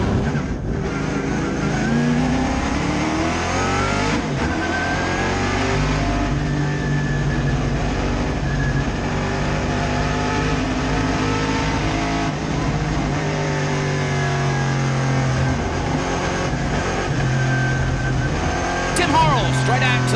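Race cars roar away at the green-flag start of the SVRA Group 10 helmet race at Circuit of the Americas, engines rising and droning continuously at close range, loud and sustained, with a commentator talking over them.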